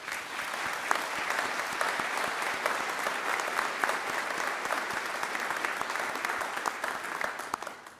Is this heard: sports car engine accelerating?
no